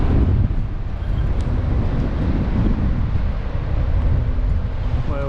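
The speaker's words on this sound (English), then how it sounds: "I'll put you back into the wind and show you Whalebone Beach" Strong wind at Whalebone Beach in Fitzgerald River National Park, a loud, constant low rumble and buffeting across the microphone with no pauses.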